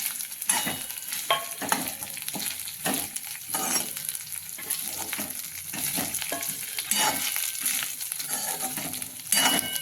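Sliced bitter gourd rounds, seeds removed, stir-fried in a pan with a steady close sizzle broken by repeated scraping stirs throughout.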